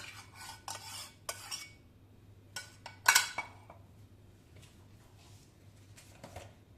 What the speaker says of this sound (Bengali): আর টক দইটা ভালো করে ফেটিয়ে নিচ্ছি